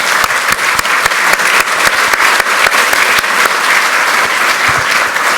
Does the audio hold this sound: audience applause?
yes